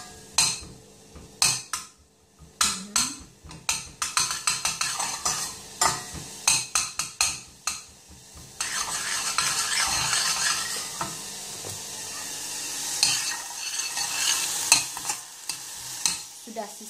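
Chopped garlic and onion sizzle and crackle in a hot pan while a utensil scrapes and stirs in repeated strokes, close and fairly quiet, with a steady frying hiss building up partway through.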